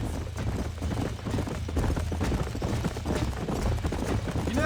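Horse hooves clip-clop steadily in Red Dead Redemption as riders move at an easy pace, a continuous mid-level rhythm under low game ambience and faint background voices.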